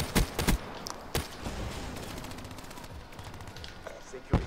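Gunfire in the video game Black Ops 3 on the Descent map: several sharp shots near the start and end with a dense, noisy battle din in between, the bursts loud and close.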